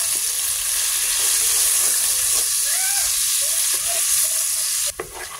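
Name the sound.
onion frying in oil left from frying chicken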